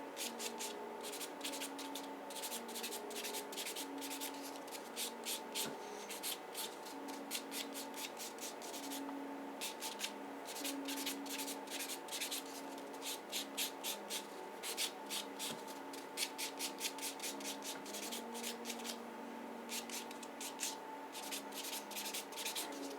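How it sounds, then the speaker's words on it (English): A nail buffer lightly buffs dip powder nails in quick, soft, repeated rubbing strokes. The scratchy sound comes in short bursts, close but faint, over a quiet room with no talk. "Then I do a very light buff again."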